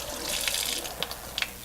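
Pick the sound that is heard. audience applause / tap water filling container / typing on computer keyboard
tap water filling container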